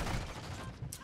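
A Basilisk revolver is reloaded in Modern Warfare 2, a short run of close mechanical clicks and metallic clatter over a low background rumble.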